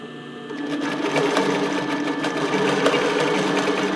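A sewing machine stitches elastic trim onto a brief, its steady motor hum and rapid needle clatter running continuously and close, starting up after a half-second of quieter lead-in.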